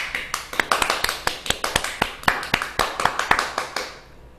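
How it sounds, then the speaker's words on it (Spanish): A small group claps over Zoom in a steady, uneven patter of distinct hand claps, fairly close, lasting a few seconds before tapering off. "Un aplauso para la señorita Soriano."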